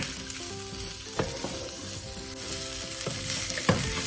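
Potato and aubergine sabji frying in a pan with a steady close sizzle, broken by several sharp scrapes and clicks as a utensil stirs and scratches the browning vegetables against the pan; no voices.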